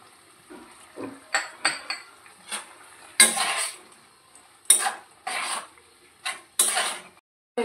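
Spoon scraping and clinking against a metal pot while vegetables and milk for a Bengali milk sukto are stirred, giving repeated bursts of scrapes and knocks at an uneven rhythm, close and fairly loud, with no talking.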